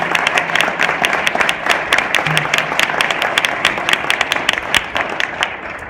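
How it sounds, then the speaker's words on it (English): Audience applause at an awards ceremony honoring Congresswoman Louise Slaughter, with dense, steady clapping from a crowd that stays loud and continuous, sharp individual claps standing out, fading slightly near the end. "let's give a round of applause to Congresswoman Louise Slaughter and her lifetime of work for us"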